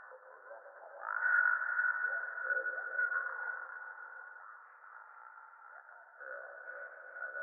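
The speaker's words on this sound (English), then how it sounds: "I have a filter that has a slow resonance on there, so it gives it that ringing sound" A steady resonant synth tone from a slow-resonance filter in Bitwig rings on with a bright sustained band, swelling early then easing, a filtered ringing pad held alone throughout.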